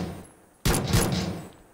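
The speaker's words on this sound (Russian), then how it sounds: "Ты куда стреляешь-то?" A sudden burst of automatic gunfire in the battle royale game Battlegrounds cracks out after a brief hush, then rings and fades over about a second, with no talking.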